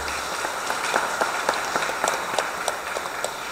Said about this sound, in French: Et même pas le temps de parler, t'applaudis tout de suite.